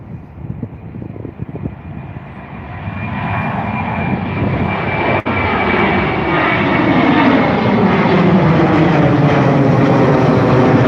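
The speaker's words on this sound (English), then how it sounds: "Taking off now, we have a Ryanair flight to East Midlands, a 737-800 EIEBE" A Ryanair Boeing 737-800 takes off, its jet engines swelling from a rumble into a loud sustained roar with a rising whine, building and holding strong nearby.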